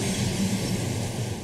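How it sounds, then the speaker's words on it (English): A train pulls into a Moscow station, its steady low rumble and rolling rail noise filling the space at close range with no voices. "Here's our train."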